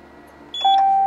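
A 2023 Dodge Charger Scat Pack 392's anti-theft immobilizer gives two short electronic chirps in quick succession after a PIN code is entered, clear and close in a quiet cabin.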